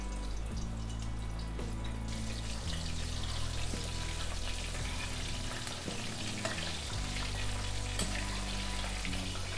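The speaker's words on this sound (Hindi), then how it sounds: "तो अब पनीर फ्राई कर लेते हैं।" Paneer cubes lightly coated in cornflour fry in hot oil in a pan, giving a steady, dense sizzle that runs continuously throughout with no talking.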